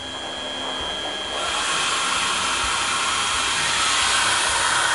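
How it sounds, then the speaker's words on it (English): A small hair dryer runs on its low setting, powered through a Motomaster 1000 watt sine inverter; a steady airy whoosh starts softer and rises slightly after a second, then holds loud and continuous. "I've decided I have a small hair dryer here."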